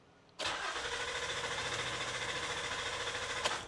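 A Honda Ridgeline engine, after sitting for over a year, abruptly starts cranking over, a steady rhythmic churning that continues evenly at moderate volume, close by.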